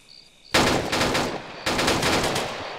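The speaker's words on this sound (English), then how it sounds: "There are HMG in the bunker" Two long, loud bursts of rapid heavy machine gun fire from a bunker in Arma, close and harsh, each lasting about a second with a short gap between, after a quiet start.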